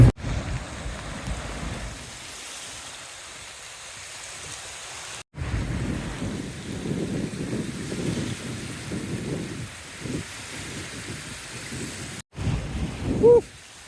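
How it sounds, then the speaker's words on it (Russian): Broadband light drizzle hiss with patter, steady and soft, briefly cut out twice; a faint low rumble underneath and no speech. "Дождик так моросит, прохладно"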